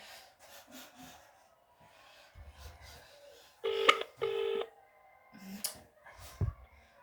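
A phone being dialed gives a few short, faint keypad tones amid quiet handling rubs and clicks nearby.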